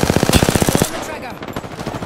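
An automatic weapon fires in the video game Apex Legends, a loud, rapid burst of about a dozen evenly spaced shots that cuts off after under a second, followed by a ringing, echoing tail.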